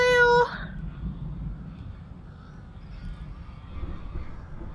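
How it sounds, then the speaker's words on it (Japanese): Crows cawing in the horror video game Alan Wake: a sharp harmonic caw opens the clip, then fades into a low rumbling ambient background with faint distant calls. "めっちゃカラス鳴いてる。"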